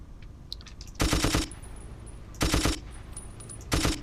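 Three short bursts of rapid machine-gun fire from the video game Battlefield 1942 ring out at steady intervals over a quiet background hum.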